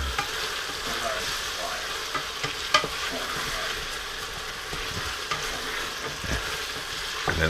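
Shrimp in a vegetarian curry sizzles steadily in a hot pan, a close, even frying hiss with occasional stirring clinks and scrapes, no talking over it.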